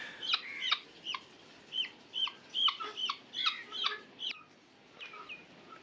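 White chickens clucking and calling repeatedly in short, sharp bursts, fairly close and loud, with brief pauses between calls and no talking.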